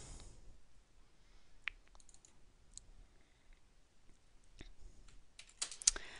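Computer mouse clicks while working in statistics software: a few sharp, quiet clicks scattered over several seconds, with a quick cluster near the end, in an otherwise quiet room with no talking.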